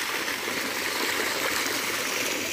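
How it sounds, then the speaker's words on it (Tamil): Irrigation water runs steadily across a farm field, a continuous even rushing flow close by with no voices. "நம்ம ட்வின்கே ஃபார்ம் ஃபுல்லாகவும் முழுமைக்கும் தண்ணி பாஞ்சிட்ருக்கு."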